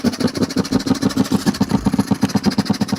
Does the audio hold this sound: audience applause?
no